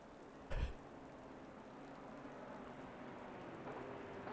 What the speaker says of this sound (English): I do love just the rain, the sound of rain.